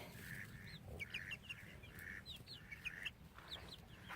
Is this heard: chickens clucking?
yes